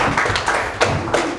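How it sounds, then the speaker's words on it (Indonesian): Scattered hand clapping from guests at a wedding ceremony, a few separate sharp claps over a brief stretch rather than full applause. "beri tepuk tangan dong"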